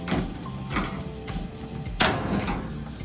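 A few sharp plastic clicks and snaps from a clothes dryer's top panel clips, spaced out over a few seconds, close by, with a louder pop near the end as the panel pops open.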